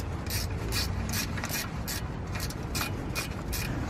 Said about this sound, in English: Now that I've broke it, I'm just going to ratchet it.